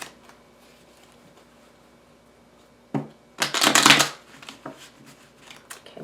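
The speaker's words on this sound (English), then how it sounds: "Okay, one more shuffle." Tarot cards shuffled by hand in a quick burst of riffling and flicking after a quiet pause, followed by a few softer card taps and slides, close and clear with no talking.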